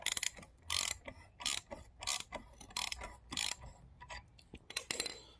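A ratchet tightens the 19mm bolts on a lowering-spring strut for a Chevrolet HHR SS, giving bursts of rapid clicking in about ten short runs separated by pauses, close and fairly loud.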